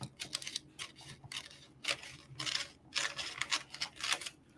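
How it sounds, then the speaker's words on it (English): Scissors snipping through a strip of IOD paint inlay for a train case makeover, a close series of crisp, uneven cuts with short pauses between strokes and no talking. "So I'm going to cut this strip"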